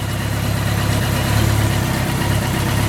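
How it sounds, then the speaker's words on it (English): Yamaha FJ1100 motorcycle engine idling up close, a loud steady low rumble with an even throb and no pause, heard alone without talk. "Bike sounds sweet."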